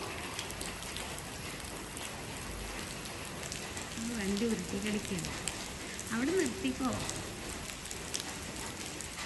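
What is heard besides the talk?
rain falling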